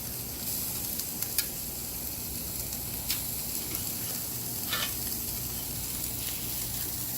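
Pork ribeyes sizzle steadily on a gas grill, a constant close frying hiss with a few soft crackles and pops, no talking.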